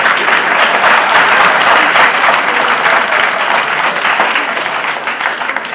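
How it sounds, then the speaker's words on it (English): An audience at a self-build homes presentation breaks into warm, steady applause, loud and close with many overlapping claps, continuing evenly with no voices over it. "Thanks for the applause."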